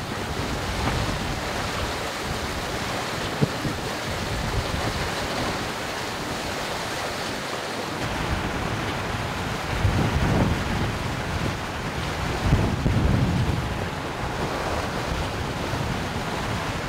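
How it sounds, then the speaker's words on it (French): Steady roar of strong wind buffeting the microphone on an exposed, unsheltered shore by the sea near a small lighthouse, with surf washing underneath and a few louder gusts swelling midway through. "même si c'est sous le vent, il y a beaucoup de vent, c'est pas abrité"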